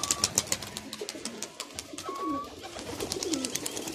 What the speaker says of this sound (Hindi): फ्रेंड्स ये देखें एक दुबास कबूतर है